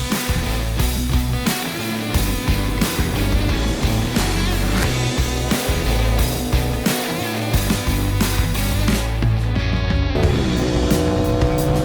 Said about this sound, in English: now we can go test the bike